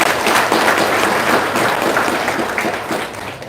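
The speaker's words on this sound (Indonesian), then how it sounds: "Tepuk tangan dia." An audience applauds at a business seminar, a dense continuous patter of many hands clapping close and lively for the whole stretch.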